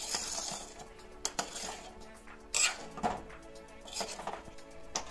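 A spoon clinks and scrapes against a metal pot while sugar is stirred into milk, with irregular metallic taps and rattles spaced through the clip over a low background hum.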